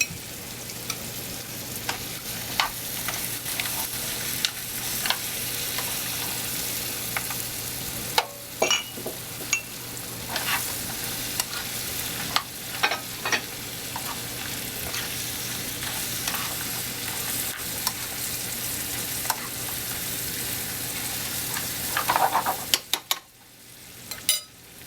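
Lobster roe mixed with olive oil sizzles steadily in a hot pan, a continuous frying hiss broken by scattered spoon scrapes and clinks, with a sharper burst of sizzling near the end before it quiets.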